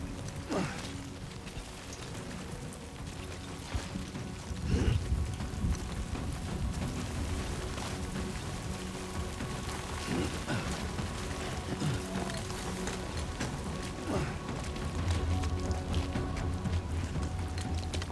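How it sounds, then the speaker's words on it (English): Steady rain in a Kojima video game, a dense, continuous patter across the whole span, with occasional heavier thumps and a low rumble underneath. "Rain."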